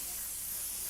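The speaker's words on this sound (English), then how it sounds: "if I just spray lightly this entire tail" Aerosol spray hissing steadily across a model's latex tail, a continuous broadband spray held evenly for the whole second, close and fairly loud with no talking over it.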